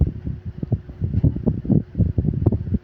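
A strong southwest monsoon wind blows in gusty bursts across a fisherman's seaside spot in the Philippines, buffeting the microphone with rapid, uneven rumbling blasts.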